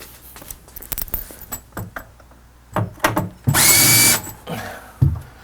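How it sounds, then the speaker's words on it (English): A power drill drives Robertson screws into an Atari Quantum arcade cabinet during restoration. Several clicks and knocks of positioning come first, then one loud, close burst of motor whine about half a second long, then further handling taps. "I'm effortlessly putting my drill in here, and they're just kind of finding the right spot."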